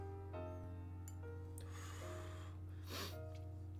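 A few short, quiet sniffs of a glass of bourbon whiskey close to the microphone, with a steady low hum underneath and no talking.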